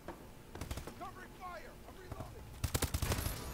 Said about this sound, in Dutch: Oh, dat was een sniper, daar heb ik geluk zeg.